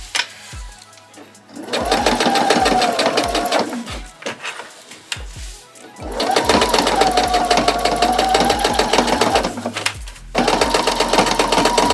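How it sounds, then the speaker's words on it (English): Sewing machine stitching across a seam on a denim skirt made from upcycled jeans, heard in two long steady runs of fast mechanical whirring. The runs are separated by short pauses with fabric handling and light clicks. "Then I'm going to come back and show you how I sew it."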